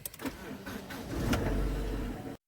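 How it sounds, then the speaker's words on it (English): A car engine cranks and catches, a short burst of starter whirr rising into a steady low idle rumble close by, then cutting off abruptly. "Now when I start the engine,"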